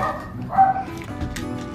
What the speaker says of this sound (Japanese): もう吠えとんな。